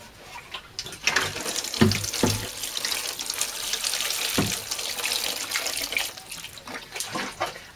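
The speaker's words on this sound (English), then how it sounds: "All we need to do now is to give them a water." Water pours from a watering can or tap onto eight sweet pea seed pots, a steady splashing trickle with brief louder gushes, close by and heard alone without talk.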